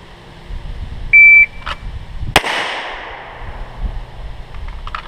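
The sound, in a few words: handgun single shots fired during drill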